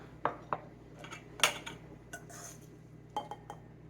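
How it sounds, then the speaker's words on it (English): Dishes and a serving bowl handled in a kitchen, a few sharp clinks and clatters in a short irregular burst, fairly quiet with no one talking. "Get our serving bowl."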